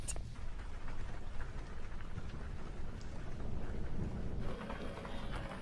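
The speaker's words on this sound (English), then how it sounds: "The rain is picking up for sure." Dense, heavy rain roars steadily in a slot canyon, with a low rumbling underneath like distant thunder rolling through the downpour.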